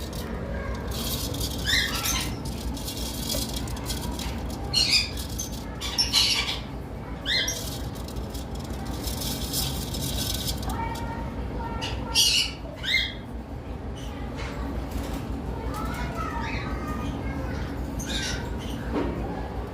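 Cockatiels and forpus parrots in an aviary setup give off scattered shrill squawks and chirps, some close and loud, over a steady rustling background with no talk.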